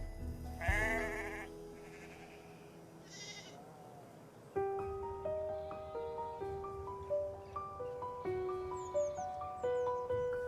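Sheep bleating under a tree in a countryside field near a quarry: a few loud, wavering bleats close by at the start, then quieter, and later soft music plays over the scene.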